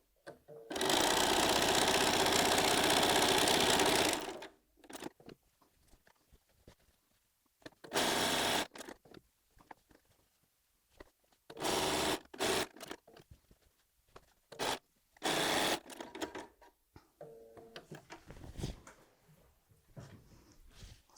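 Quilt pieces made from Tula Pink fabric run through a sewing machine, first in one long loud burst lasting several seconds, then in a string of short, choppy stitching runs with brief pauses between them.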